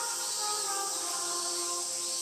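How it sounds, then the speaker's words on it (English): Cicadas screech in a loud, continuous, shrill drone in the video game Tsukihime, steady and unbroken throughout with no voices over it. "The shrill of the cicadas threatens to pierce my eardrums like a needle."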